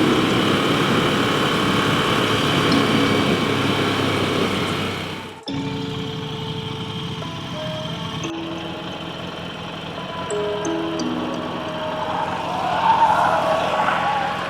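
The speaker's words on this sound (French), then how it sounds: "Fait du drift." Motorcycle drifting and skidding on a group ride near the Millau Viaduct, a loud continuous tyre and engine roar that cuts off abruptly midway, then resumes with shifting engine tones and squeals.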